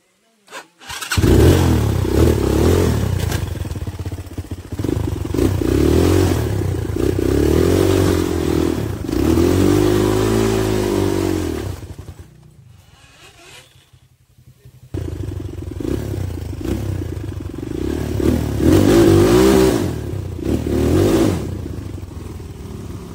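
A motorcycle engine starts and revs loudly up close, surging and dropping in repeated bursts, then goes quiet for a moment before revving hard again.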